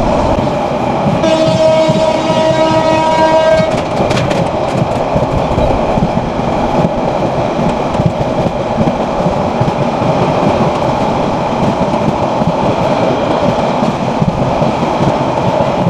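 The Saikat Express runs at speed from Chattogram toward Cox's Bazar with a loud, continuous rumble and rattle of the carriages. Its horn sounds for a few seconds near the start. Close, with no voices.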